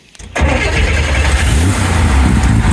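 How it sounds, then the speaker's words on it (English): A Fitch Sprint Corvair Corsa's flat-six engine cranks briefly and then catches, settling into a loud, throaty, steady idle close by. "Flat 6 engine."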